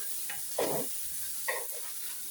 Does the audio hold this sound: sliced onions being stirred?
yes